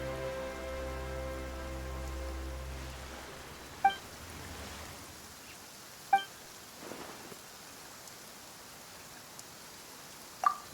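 Rain falling in the video game Genshin Impact, a soft steady patter with scattered sharp drips, after a low droning tone fades out early.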